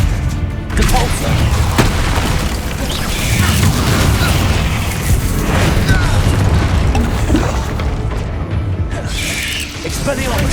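Spell-casting explosions in the video game Hogwarts Legacy, with repeated booms, bursts and thuds in a busy combat mix, while a voice shouts spell names throughout.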